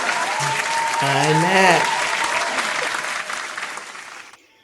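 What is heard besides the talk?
studio audience applause, cued by the host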